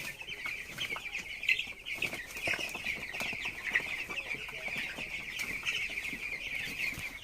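A flock of 17-day-old broiler chickens inside a poultry house keeps up a constant chorus of soft peeping and clucking, many birds overlapping close by with no talking.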